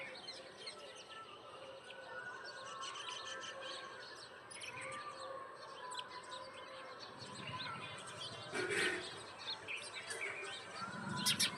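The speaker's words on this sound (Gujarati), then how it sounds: "જો ચકલા આવી ગયા છે ચણવા." Sparrows arriving to feed give faint, scattered chirps and tweets throughout, soft and somewhat distant, with a few brighter calls near the end.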